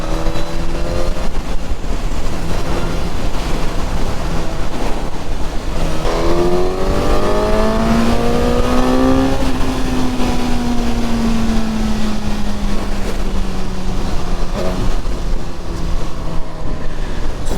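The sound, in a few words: Suzuki GSX-S 1000 motorcycle accelerating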